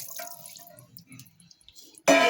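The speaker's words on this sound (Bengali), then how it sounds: "তো জলটা আমি এখন অ্যাড করে দেব।" Water poured from a washed pot into a pressure cooker holding raw beef for a village-style beef curry. A brief splash lands near the end after quiet dripping.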